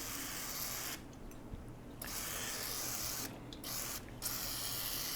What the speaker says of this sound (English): just give them all a little douse of the Ballistol